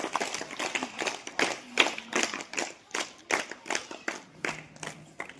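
A school event audience claps in a loose, uneven patter of hands, moderately close, with the claps coming in rhythmic bursts for several seconds.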